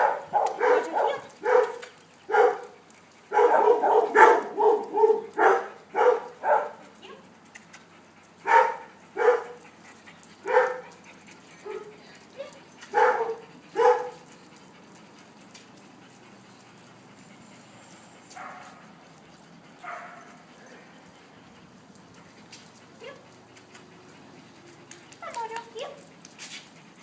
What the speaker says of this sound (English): While these dogs are barking